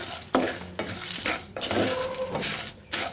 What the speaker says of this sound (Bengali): এই মশলাগুলোকে তেল ছাড়া ভাজতে হবে